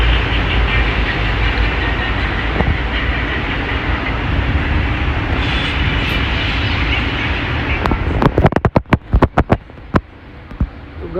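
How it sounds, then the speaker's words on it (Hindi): A Dubai Metro train at Deira City Centre metro station gives a loud, continuous rumble that ends in a series of sharp rhythmic clacks as it moves along the track. "ये है डेरा सिटी सेंटर मेट्रो स्टेशन"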